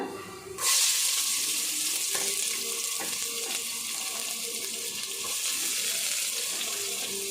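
Onion drops into hot oil with garlic, setting off a sudden loud burst of sizzling that settles into a dense, steady hiss, close up with no talking.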